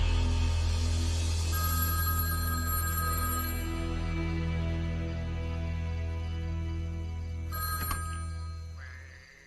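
Telephone ringing within a rock song, a sustained ringing tone over a steady bass-heavy backing track, moderately loud, ending in a brief burst near the close.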